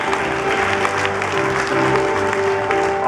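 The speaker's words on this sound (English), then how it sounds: "How about a big round of applause for them?" An audience gives a dense, loud round of applause at a live music show before a Hawaiian song, clapping steadily for about three seconds over a faint sustained tone with no talking.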